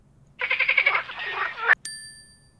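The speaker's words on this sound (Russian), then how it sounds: "Покажи лягушку." A frog croaks in a quick run of rhythmic, buzzy pulses lasting about a second, followed by a bright ringing ding that fades away.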